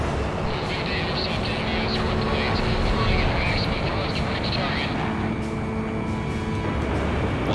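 A fighter jet in the video game Ace Combat 6 roars continuously at high speed, a dense, loud engine rush that holds steady throughout.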